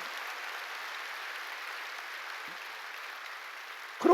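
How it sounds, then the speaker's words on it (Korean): A church congregation claps during a sermon, making a steady, even hiss of applause that carries through, with a sudden louder burst of sound right at the end. "깨달은 사람만 박수 쳐요"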